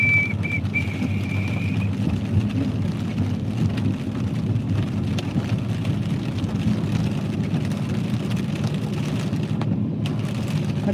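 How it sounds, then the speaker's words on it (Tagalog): Heavy rain drums steadily on a car while driving, a dense, constant roar with the low rumble of the moving vehicle underneath and no talk. "talagang lumalakas yung ulan."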